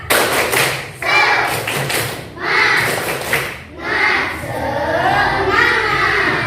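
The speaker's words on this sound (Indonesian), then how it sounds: "coba kita tepuk semangat dulu biar lebih semangat" A classroom of pupils performs a rhythmic clapping cheer, loud patterned bursts of claps and thumps in groups with short pauses between, mixed with the children's chanted voices.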